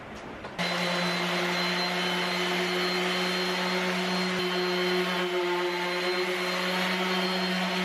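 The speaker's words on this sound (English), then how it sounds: "I'll take that sander now and get this thing sanded down." A power sander starts abruptly and runs with a steady, loud whine and hum while sanding down a wooden workbench top in a home workshop, continuing without pause to the end.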